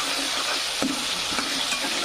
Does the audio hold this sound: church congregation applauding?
no